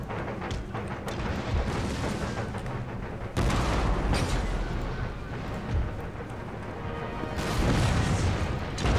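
Artillery in Empire Total War booming repeatedly in a battle, heavy cannon blasts at irregular intervals over a constant rumble of gunfire and combat noise.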